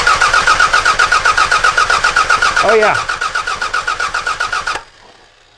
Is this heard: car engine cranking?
yes